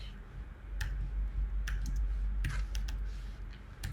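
Computer keyboard keys clicking in short irregular bursts at a desk, fairly faint against a steady low background hum, with no talk.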